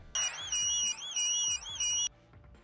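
An OEA Safeguard physical distancing tag sounds its 6-foot warning alert: a loud, shrill electronic alarm with a rapid warbling pitch, held steadily for about two seconds and then cut off abruptly, leaving faint background noise.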